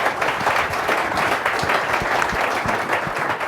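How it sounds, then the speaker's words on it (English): An audience at a startup pitch competition in Los Angeles gives the judges a steady round of applause, loud and continuous clapping throughout with no pause. "Big round of applause for the judges."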